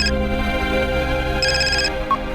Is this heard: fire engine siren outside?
no